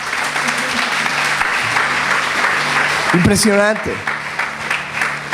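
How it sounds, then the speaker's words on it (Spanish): A church congregation claps in a sustained burst at a worship service, loud and close, while someone speaks briefly over it near the end. "Dale un aplauso a ese Dios poderoso que tienes"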